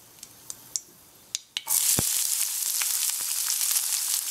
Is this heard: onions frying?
yes